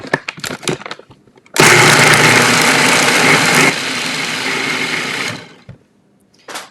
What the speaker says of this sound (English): We're going to blend this again.